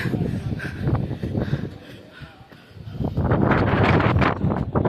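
Cold wind sweeps across Doddabetta Peak in Ooty, buffeting the microphone in rough, uneven gusts that dip briefly and then build louder toward the end.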